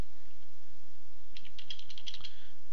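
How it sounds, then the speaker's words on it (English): Bursts of quick clicking keystrokes on a computer keyboard, close and moderately loud, following a quiet moment. "So I'm down here and I type Jack."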